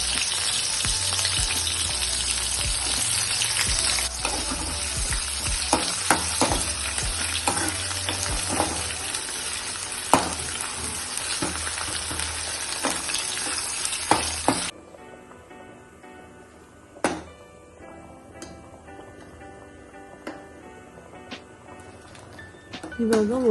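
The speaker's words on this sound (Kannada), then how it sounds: "ಆಮೇಲೆ ಒಗ್ಗರಣೆಗೆ ಸಾಸಿವೆ, ಹಾಕ್ಬಿಟ್ಟು ಚಿಟ್ಲ ತಗೊಂಡು ಆಮೇಲೆ ಎಣ್ಣೆ ಹಾಕಿ ಆಮೇಲೆ ಈರುಳ್ಳಿ ಹಾಕಿ ಫ್ರೈ ಮಾಡಬೇಕು." Onion frying in hot oil with mustard seeds for a vegetable sambar tempering, loud continuous sizzling with stirring clatter under speech, then the sizzle drops away to quieter kitchen sounds with a few sharp knocks.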